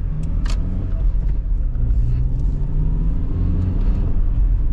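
A 2006 Honda CR-V with a five-speed manual gearbox driving along, a steady low engine and road rumble heard from inside the cabin with faint background noise.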